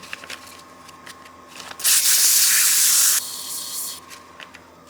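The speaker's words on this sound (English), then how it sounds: "Let's go ahead and sand this piece and throw some scratch free on." A wooden snowman oil candle is sanded on a lathe, with soft rubbing under the low spin, then a loud hissing burst of about a second and a half before the quieter scuffing returns.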